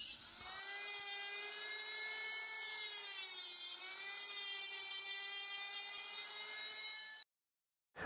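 A power saw cuts through the wooden form of a poured concrete wall, whining steadily with a strong harmonic tone for about seven seconds, close and loud, then stops abruptly; no talking.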